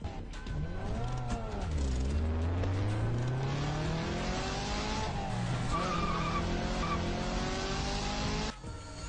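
A car in sport mode revs and accelerates hard while its tyres skid and squeal in long, wavering tones that rise and fall for several seconds, loud and close, before cutting off abruptly near the end.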